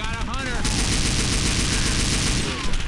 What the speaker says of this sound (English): Texas, one more shot, he should go down.